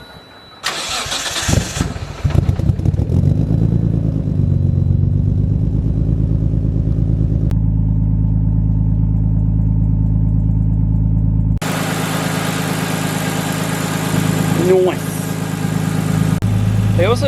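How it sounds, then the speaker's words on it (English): A Nissan Skyline R33 engine cranks and catches, revs briefly, then settles into a loud, steady idle that continues close up, with a brief voice near the end. "turn the car on and make sure everything's all G"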